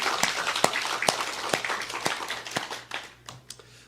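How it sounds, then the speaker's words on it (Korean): A Korean church congregation claps together in a steady, even rhythm of about two claps per second during a Sunday worship service, loud and close at first, then thinning and fading toward the end. "우리 하나님께 영광의 박수요."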